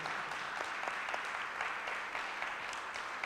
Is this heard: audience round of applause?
yes